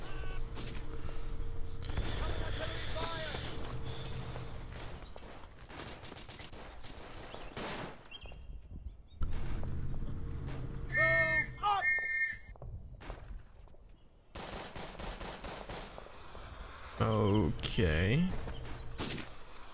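Gunfire in the World War I trench game Verdun: bursts of inaccurate rifle and machine-gun shots crackle across the trenches alongside shrill whistles, with someone speaking briefly over the din.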